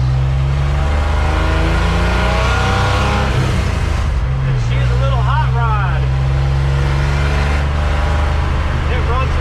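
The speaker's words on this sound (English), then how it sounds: "Okay, we are out driving the F100. It's its first time on the road in more than 30 years." A 1979 Ford F100 pickup drives down the road after decades parked, its engine droning loud and steady from inside the cab with road rumble, a brief shift-like dip midway, and a voice talking over it.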